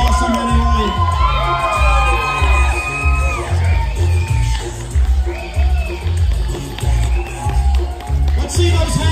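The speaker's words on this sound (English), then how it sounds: "Please cheer for everybody who isn't your favorite" A crowd at a steampunk fashion show at Wild Wild West Con cheers, whoops and yells in repeated loud bursts, with children's shouts mixed in and a voice speaking between the waves.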